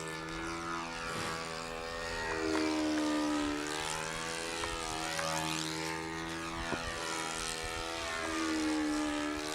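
A model airplane with a four-stroke engine flies overhead at a control-line event, its steady buzzing drone swelling and fading as it circles, with pitch bending up and down on each pass.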